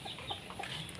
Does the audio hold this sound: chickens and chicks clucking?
yes